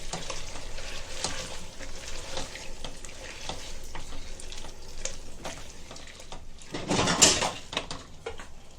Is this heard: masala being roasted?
yes